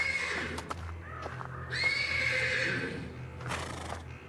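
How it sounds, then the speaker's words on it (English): A horse in the stables whinnies repeatedly, with long shrill neighs rising and falling, plus a few snorts and faint hoof knocks against a quiet, low rumbling background. "The persistent neighing of a horse can be heard from the stables."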